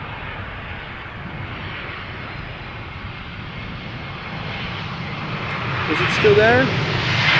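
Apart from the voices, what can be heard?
Vueling Airbus A320 arriving from Alicante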